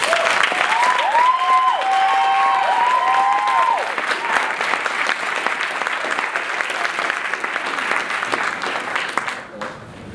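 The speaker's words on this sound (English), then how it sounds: "can we give a brief round of applause for Dr. Roz Beatty" A hip hop discussion audience applauds for several seconds, loud and dense clapping with a few whoops early on, fading out near the end.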